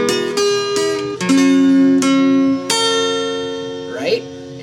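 Bright plucked guitar notes ring out in a short melodic line, several sharply accented, with sustained chord tones underneath; no talking.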